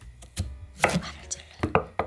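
Knife chopping cucumbers on a cutting board for cucumber kimchi, with a handful of sharp, close chops coming in quick irregular strokes and short pauses between them.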